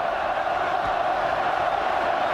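Loud, unbroken roar of a packed rugby stadium crowd at a 2001 Lions match, a steady mass of cheering voices filling the whole moment.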